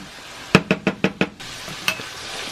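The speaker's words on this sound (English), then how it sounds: "Stirring my ground beef." A spoon scrapes ground beef around a hot cast iron pan in five quick rhythmic strokes, then one more, over a faint background sizzle.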